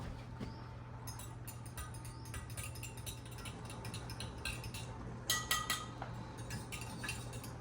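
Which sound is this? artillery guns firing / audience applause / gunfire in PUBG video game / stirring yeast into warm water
stirring yeast into warm water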